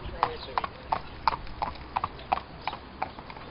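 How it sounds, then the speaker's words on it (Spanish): Horse hooves clip-clop steadily on pavement during a carriage ride, crisp regular clopping at a moderate distance, about three hooffalls per second. "el sonido de los caballos cuando trotan o cuando van"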